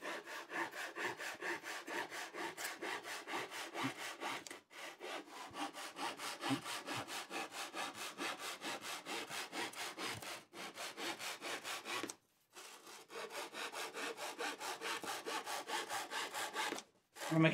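A fine-kerf crosscut hand saw with many teeth cuts through wood at a workbench. Close, steady back-and-forth strokes run alone, with a few brief pauses between bursts of sawing.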